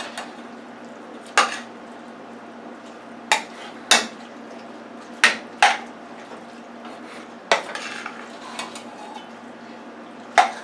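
Ground beef and baked beans being stirred in a pan, with a spoon clattering against the metal in sharp, irregular knocks over a steady low background, no talk.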